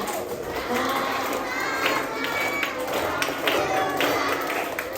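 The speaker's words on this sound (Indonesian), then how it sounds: "Oke, semuanya tepuk tangan ya. 1, 2, 3." A school audience at an emergency-simulation seminar claps together in a dense, fast patter of many hands, fairly close and continuous for a few seconds, with scattered young voices among it.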